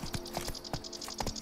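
Hooves of a horse in The Witcher 3 clip-clop in a quick, steady rhythm, fairly faint and close, with no talking.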